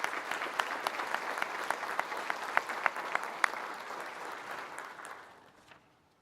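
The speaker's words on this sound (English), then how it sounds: "please offer him a round of applause" A ceremony audience at a fire and rescue service awards night claps steadily, dense applause with a few sharp nearby claps standing out, then fading away over the last seconds.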